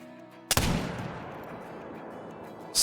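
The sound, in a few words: 50 cal muzzleloader gunshot in video game Call of the Wild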